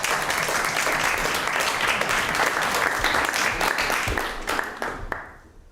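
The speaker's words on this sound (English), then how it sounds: "they deserve a round of applause." Enthusiastic applause from a classroom group, a dense sustained round of clapping from many hands that holds loud for several seconds before tapering off and stopping.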